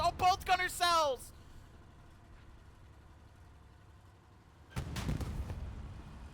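A strike lands in the World War II shooter Hell Let Loose during a tank battle, sounding as a sudden loud rumbling explosion with a lingering roll. It follows a short burst of voice and a quiet stretch.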